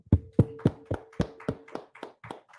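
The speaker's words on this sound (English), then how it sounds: "Let's clap it up." Hand claps at the closing of a Feast of Tabernacles gathering, heard as about nine separate claps in a steady, slightly slowing rhythm, close and distinct with brief gaps between them.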